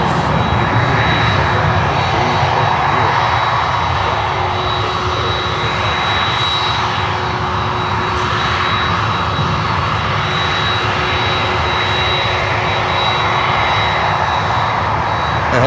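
Loud, steady roar of Boeing 767 jet engines, CFM type, running continuously up close with a broad whine and constant rumble, no voices, near an airport where a cargo flight is operating.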